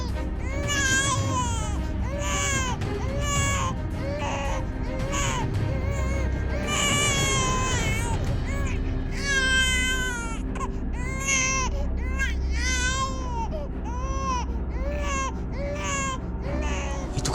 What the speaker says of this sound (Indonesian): Itu kan suara bayi.